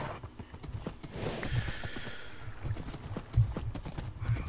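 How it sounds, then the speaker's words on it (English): A horse in a video game galloping with quick repeated hoof clip-clops and letting out a whinny partway through, close and fairly loud against a quiet background. "We gotta rely on this horse pretty much now."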